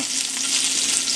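Shrimp fry in butter and olive oil in a pan, giving a dense, even hiss close up with no talking.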